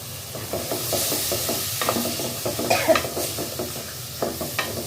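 Potatoes sizzle in hot oil in a pan of small stemmed greens with prawns while a utensil scrapes and stirs in quick, repeated strokes close up.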